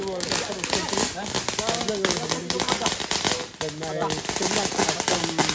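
Fireworks and firecrackers crackle and pop in rapid bursts during Hari Raya festivities, mixed under lively voices and background music at a moderate distance.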